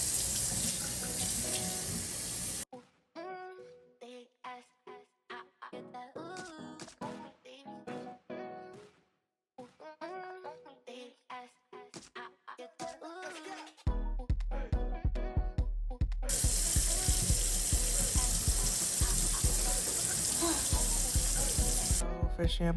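Water gushes from a tap into a silver kitchen sink, loud and steady at first, then breaking into splashing, gurgling spurts before a strong continuous flow returns near the end.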